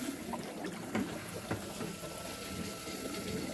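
A homemade dual venturi setup pumps water and air into a tank, giving a steady, close gurgling wash of flowing liquid with a few brief bubbly bursts throughout.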